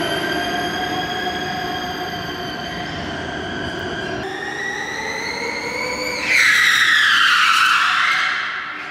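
Rally car tires squealing during a Ken Block video shoot: a sustained, tonal, whining screech that shifts pitch, then swells louder and harsher near the end before fading.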